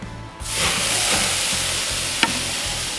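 Kalbi beef short ribs coated in marinade with garlic and ginger hit a hot grill, bursting into a loud, close sizzle that holds steady with a faint pop.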